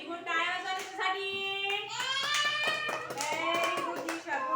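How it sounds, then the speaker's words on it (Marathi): First-grade schoolchildren in a classroom clap for a classmate, a scattered burst of small hands patting irregularly while children's voices sing out over it loudly and close. "टाळ्या वाजवा तिच्यासाठी."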